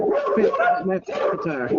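A dog gives a run of high, drawn-out yips and whining barks, close and fairly loud, filling the short moment without pauses.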